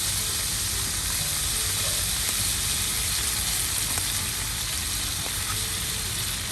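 Butter sizzles and fries steadily in a cast iron pan alongside seared beef tenderloins in an RV kitchen, a constant dense crackle close by with no talking.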